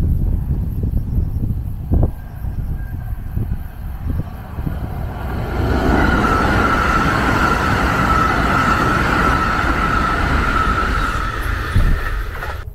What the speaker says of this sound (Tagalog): Tapos dito dumadaan yung tren.